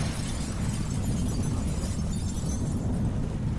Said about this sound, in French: Slow motion sur une explosion.